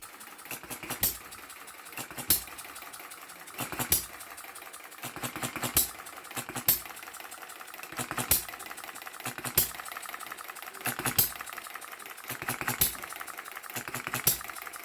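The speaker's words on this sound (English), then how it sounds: "the Jerry Howell hit and miss engine that he's completed recently" A model Jerry Howell hit-and-miss engine runs in a home workshop, firing in sharp periodic bursts about every second or so, with coasting quieter stretches between each near, distinct firing.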